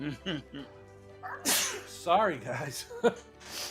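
A person sneezes once sharply at close range during a live stream, amid talk from several people nearby.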